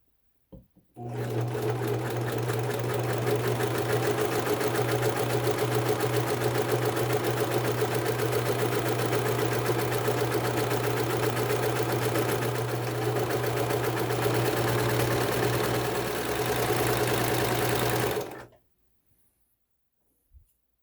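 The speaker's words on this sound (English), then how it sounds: "We're just going to serge the edge very closely, kind of just scraping the fabric on the end" A serger overlocks the edge of a fabric pet scarf in one loud, continuous close-up run of fast mechanical whirring and clatter for about seventeen seconds, then stops abruptly into silence.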